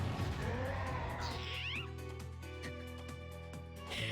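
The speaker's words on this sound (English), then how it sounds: "It's just a cute little kitty." A cartoon cat meows in the video game Digimon World: Next Order, one short mewing call over steady game music and effects that continue throughout.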